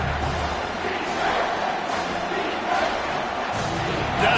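A football stadium crowd roars steadily behind the defense on a 3rd down, a dense and continuous wall of cheering with slight swells and no distinct voices standing out.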